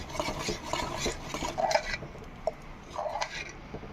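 Custard powder mixture stirred in a pan on the stove, soft repeated scraping and light metallic clinks of a spoon against the pan at an uneven pace, close and fairly quiet, no voices.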